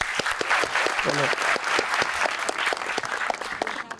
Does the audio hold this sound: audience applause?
yes